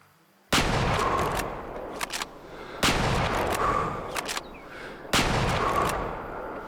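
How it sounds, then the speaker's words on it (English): Three loud rifle gunshots in the hunting video game Way of the Hunter, each a sharp close crack followed by a long rolling echo, spaced about two and a half seconds apart. "We'll see what happens when we start shooting here."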